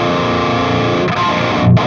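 Heavily distorted modern metal guitar played through the Overloud TH3 amp sim with its boost knob engaged, a thick sustained chugging tone that stays loud and steady, swelling slightly near the end.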